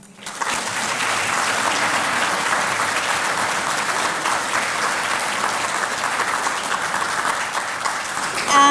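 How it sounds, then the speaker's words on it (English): An audience at a memorial lecture breaks into loud, sustained applause, dense clapping from a sizeable crowd that stays steady for several seconds after a brief quiet start, with no talking over it. "that deserves a huge clap"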